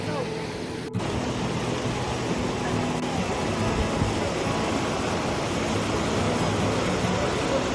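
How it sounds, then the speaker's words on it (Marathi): Glacier meltwater rushes in a dense, steady roar close by on a mountain trail in the Himalaya, a continuous torrent; a brief voice is heard at the start. "ग्लेशियरचं पाणी येतोय."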